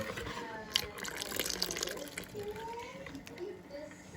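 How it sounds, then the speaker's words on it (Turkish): Tap water runs over a container lid being washed in a kitchen sink, giving a soft, uneven splashing stream close by, with faint voices in the background. "Ayrıca şu kapağı yıkaman lazım."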